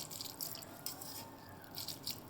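Dal and rice being washed by hand in a bowl of water, fingers swishing and rubbing the grains in a soft, continuous splashy wash with small bursts of dripping, close and fairly quiet.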